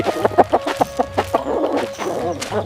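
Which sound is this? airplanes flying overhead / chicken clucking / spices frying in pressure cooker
chicken clucking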